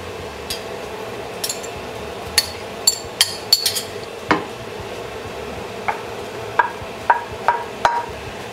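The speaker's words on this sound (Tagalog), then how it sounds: "Haluin lang natin konti." Vegetables being stirred into a chicken and pineapple stew in a pot, with a spoon scraping and knocking against the pot in scattered sharp clinks over a low simmer, with no talking.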